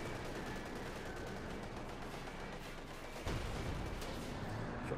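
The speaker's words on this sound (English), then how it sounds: "T-34 shoots, misses." A T-34 tank fires its cannon in Company of Heroes 2, a single sharp blast cutting in midway through a dense, continuous wash of distant gunfire and battle noise.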